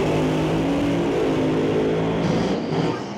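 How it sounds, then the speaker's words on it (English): A drag racing car engine revs loudly and steadily in its lane at a drag strip, a dense mechanical roar holding close and continuous throughout. "as you can hear him bringing up the revs over there in the Lordco lane"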